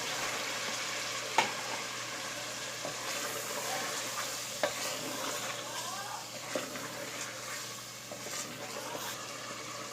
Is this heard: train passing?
no